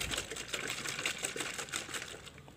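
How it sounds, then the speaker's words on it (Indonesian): Egg being whisked or shaken into an organic adhesive mixture in a container, giving a steady, fast rattling rhythm of small knocks and sloshes, close and moderately loud throughout with no speech. "Lalu kita lanjutkan dengan cara mengkocok. Nah, ini kita kocok ya."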